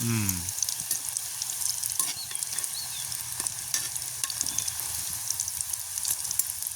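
Susiyam, sweet dumplings made with boiled gram and a flour batter coating, fry in hot oil outdoors in a village, a dense continuous sizzle with small crackles and stirring scrapes, close and steady throughout.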